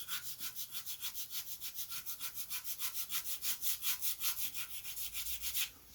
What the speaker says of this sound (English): I'm just going to sand this end a bit just to get it to sit down nicely on the wingtip